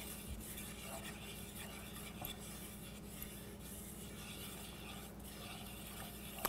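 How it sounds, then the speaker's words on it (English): A spoon stirs flour into melted butter in a saucepan to form a roux, giving a quiet, continuous scraping and rubbing close by, with no talking. "To that I'm adding 2 tablespoons of flour. And then stirring that around."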